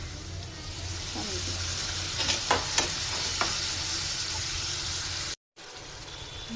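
Spice paste for a beef dish fries in oil while being stirred, giving a steady sizzle and hiss with a few scraping stirs of the spoon, then a brief cut in the sound.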